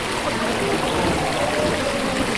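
A babbling brook flows outdoors with a steady, even wash of water noise, close and constant, with no voices.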